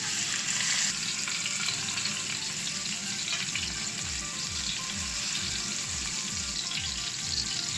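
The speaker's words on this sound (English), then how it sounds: "we're gonna set this to medium-high heat and just let it sizzle there" Steady close-up sizzling and crackling of steak frying in hot oil in a frying pan over medium-high heat, with faint scraping and bubbling underneath.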